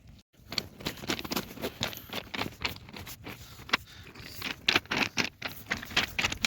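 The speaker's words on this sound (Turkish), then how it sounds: "Taş seslerini çok seviyorum." Pebbles rolling and clattering in the surf on a long stone beach at Batumi on the Black Sea, heard as dense rattling bursts that rise and fall irregularly and close by.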